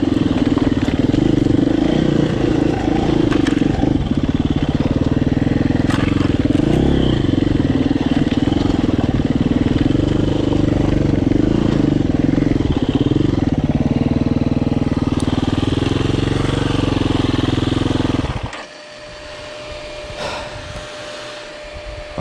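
KTM hard enduro motorcycle ridden off-road, a loud close engine drone with shifting revs for most of the stretch, then cutting out abruptly near the end.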